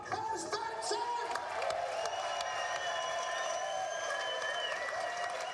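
Thousands of Le Mans race spectators, many of them Danish fans, cheer and whoop in a broad, steady crowd roar, with whistles and horn-like tones rising above the din.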